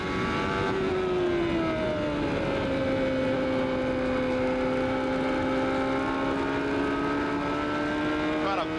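A 1994 CART IndyCar engine at Nazareth, running a little rough, holds a steady high-pitched drone while its pitch sweeps downward as the car passes. The sound is loud and continuous, with a commentator talking over it.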